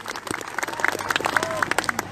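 An audience at a Nahdlatul Ulama religious gathering claps briefly for the NU chairman, a short burst of many hands applauding close by.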